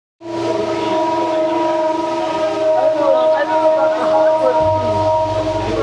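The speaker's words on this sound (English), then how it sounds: "What you're hearing is a gong." A gong at Wat Pho temple in Bangkok sends out a steady, loud, humming tone that starts suddenly and keeps ringing without fading, with a deeper low drone joining near the end.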